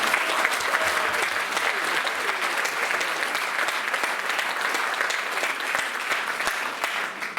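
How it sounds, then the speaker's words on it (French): A theatre audience applauds a set painter at a performance of Le Schpountz by Le Théâtre de la Ronde, loud and continuous clapping from a full house that holds steady throughout. "Des applaudissements également pour Claude Lazeroni"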